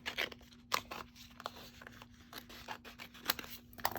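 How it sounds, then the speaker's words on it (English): Scissors snip through a thin piece of vinyl transparency for a journal dangle, with several short, crisp cuts spread irregularly across a quiet background and no talking. "let me just cut out a piece right here"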